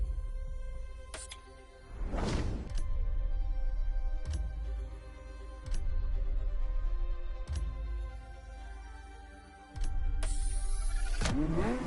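A Ferrari F50 engine in The Crew Motor Fest, set in Hawaii, revving loudly and repeatedly, with strong climbing bursts separated by brief gear-change breaks and one rising high-pitched sweep near the end.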